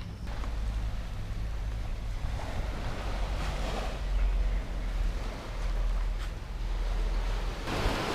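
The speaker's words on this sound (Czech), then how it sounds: "Ale tady jsou vlny klidný." Calm sea waves at the Blue Lagoon in Bali, a steady wash of surf with gentle swells rising and falling, mixed with wind buffeting the microphone and no talking.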